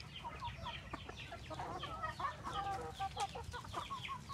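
Young chickens, not yet six months old, cluck and chatter in a steady overlapping stream from close by, with no talk over them.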